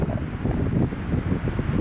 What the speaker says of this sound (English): we decided to change our location because it was too windy